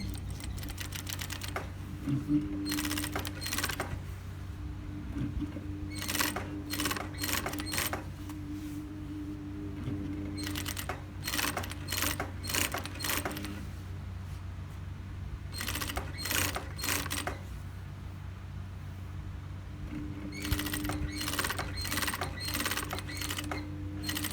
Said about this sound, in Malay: saya akan jahit kasar